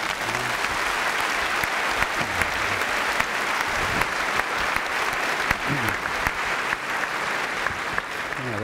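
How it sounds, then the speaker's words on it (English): An audience at a debate on state surveillance claps continuously, a loud, even wall of many hands sustained throughout with faint background voices. "you're going to start clapping in about 9 seconds"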